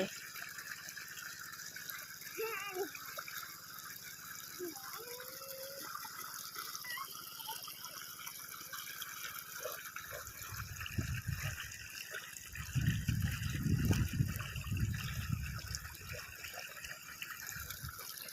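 Water pumped up from a well gushes out, a low steady rush swelling loudly partway through over constant outdoor insect and bird background.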